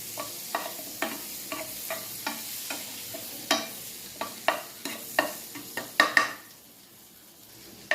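Chicken frying in melted butter in a pan for a homemade pizza topping: a steady close sizzle broken by repeated scraping stirs of a utensil against the pan, growing busier toward the end, with no voices.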